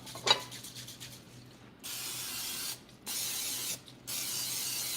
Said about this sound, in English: I do this over the sink so that all the grease that I'm spraying gets in the sink